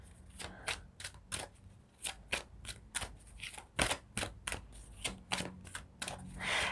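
A deck of cards is shuffled by hand in a quiet room, a close, faint run of quick riffling bursts and taps in an uneven rhythm.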